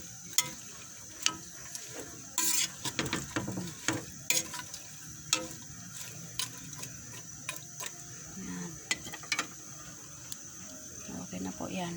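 Sweet potato tops stir-fry in a pan with a soft steady sizzle, broken by sharp clicks and scrapes of a utensil against the pan at irregular intervals, close up, while a person talks.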